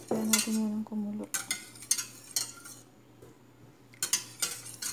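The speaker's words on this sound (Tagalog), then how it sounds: "Kailangan haluin natin ng mabuti para hindi siya mabuo-buo." A utensil scraping and clinking against a pot while creamy milky gulaman is stirred, with bursts of metallic scrapes in short rhythmic strokes and brief pauses, close and fairly quiet, under a low steady hum.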